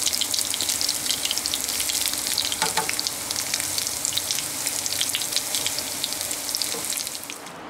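Shrimp frying in hot oil give a steady, loud crackling sizzle that runs unbroken throughout, with a few brief clinks and pops over it and no talking.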